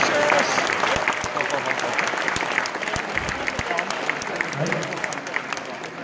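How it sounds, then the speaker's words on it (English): A crowd applauds steadily for several seconds, a dense wash of clapping at constant loudness with some cheering mixed in. "Give her a round of applause."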